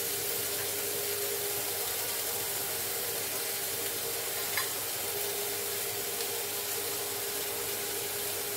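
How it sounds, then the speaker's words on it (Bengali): Vegetable curry (thor dalna) frying in a pan, a dense continuous sizzle throughout with a single faint knock midway and no voices. "দিয়ে এটাকে নাড়বো"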